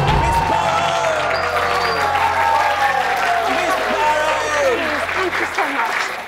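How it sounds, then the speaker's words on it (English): Studio audience of a quiz show applauding steadily and loudly after a million-dollar win, a dense wash of clapping with some cheering, holding strong throughout before easing slightly at the end. "please give a big applause"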